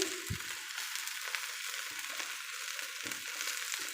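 Okra (bhindi) frying in a pan with salt and turmeric: a steady, close hiss of sizzling oil runs throughout, with a few soft stirring clunks.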